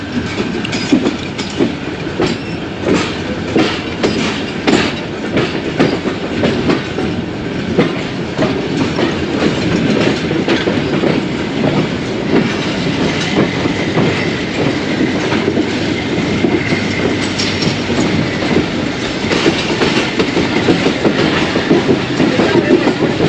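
The 101UP Subk Raftar train running after leaving Wazirabad Junction, heard from on board: continuous loud rumble with steady clickety-clack of wheels over rail joints and faint wheel squeal, close and unbroken.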